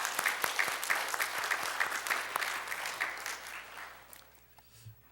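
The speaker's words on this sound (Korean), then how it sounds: "우리도 박수 한번 쳤으면 좋겠습니다" A church congregation applauds during a service, a steady run of clearly spaced claps that thins and fades toward the end, leaving a near-silent tail.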